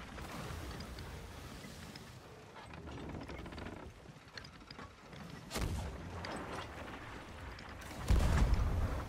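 Ship cannons firing in the pirate video game Sea of Thieves, with a few heavy booms standing out from a busy, clattering game soundscape, the loudest coming near the end.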